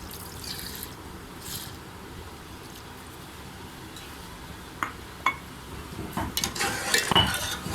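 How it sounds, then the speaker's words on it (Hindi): A spoon stirs milk and sugar in a pot, with faint scraping and sloshing that builds into clinking metal taps against the pot's sides toward the end. "इसको इसी तरह अच्छी तरह से हिलाते रहेंगे।"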